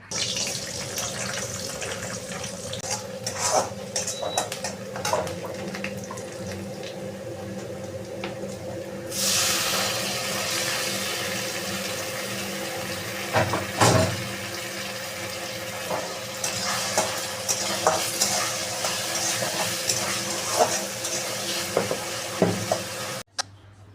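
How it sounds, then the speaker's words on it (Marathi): Onion and tomato frying with salt in a pan, giving a steady broadband sizzle that swells louder partway through, with occasional clinks and scrapes of stirring and no talking. "कांदा आणि टोमॅटो थोडंसं लवकर फ्राय व्हावं त्यासाठी मी याच्यामध्ये थोडंसं मीठ टाकलं"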